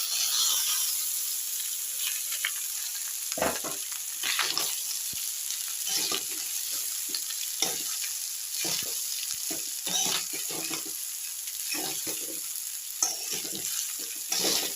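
Rice stirred and frying in a pan for paneer fried rice. A steady sizzle runs throughout, with repeated scraping and stirring strokes close by.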